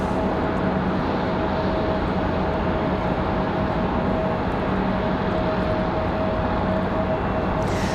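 An Allegiant airliner at Raleigh-Durham airport gives off a loud, steady engine roar with a faint tonal whine, holding constant throughout with no voices.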